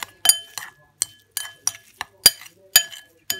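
Spoon clinking against a bowl while brown couscous and lemon juice are stirred, bright sharp taps repeating in an uneven rhythm with near silence between strikes, close and clear.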